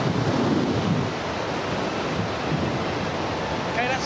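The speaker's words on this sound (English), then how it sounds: "the wind speeds already up to 40 kilometers an hour" Strong simulated typhoon wind roars as a steady, dense broadband rush, loud and unbroken throughout, with a slight dip in force after the first second.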